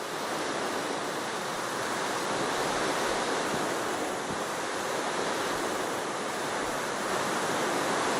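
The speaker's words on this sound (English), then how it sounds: "Come on, rain. Continue. Pour down upon me." Steady, even rainfall in Minecraft, a dense wash of static-like patter filling the whole stretch with no change in strength and no voices.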